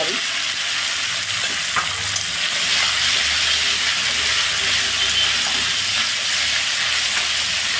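Lightly salted potatoes fry in a pan with a loud, continuous sizzle, and stirring adds soft scraping throughout.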